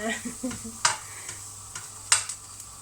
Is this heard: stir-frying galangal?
yes